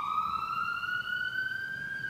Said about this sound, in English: Next one is just the siren.